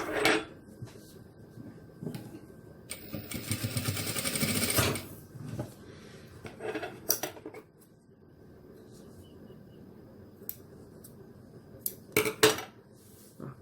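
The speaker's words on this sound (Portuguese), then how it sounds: "Eu acerto isso e faço uma costurinha reta em uma das pontas." Bursts of a domestic sewing machine stitching a straight seam along the end of a fabric strap for a small car trash bag, a loud run of about two seconds followed by short stitches and handling clicks, close and clear.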